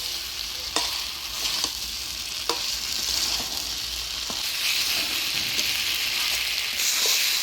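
Spiced fish curry with rita fish and potatoes sizzles steadily in a pan, with scattered spatula clicks and scrapes, loud and close throughout.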